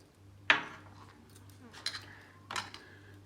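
Bread being mixed with boiled, cooled milk in a bowl gives a few sharp clinks and scrapes of a utensil against the bowl, spaced irregularly over quiet background.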